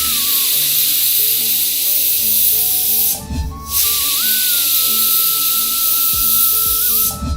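A pressure cooker on a high stove, cooking spinach and yam curry, lets out a loud, continuous steam whistle. The sound breaks off briefly twice, then resumes at full strength.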